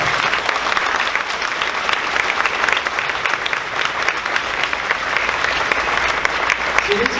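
An audience claps for sixth-grade students at a graduation ceremony, sustained loud applause from a crowd of many hands with faint voices mixed in.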